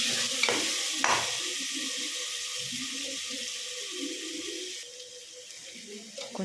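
Tomatoes and salt are stirred in a pot for mutton biryani, a couple of scraping stirs over a gentle steady sizzle, with a voice speaking faintly.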